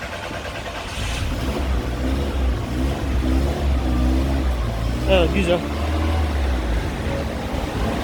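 A car engine runs steadily and revs up after a battery jump start, under ongoing conversation, with a brief higher whine midway through.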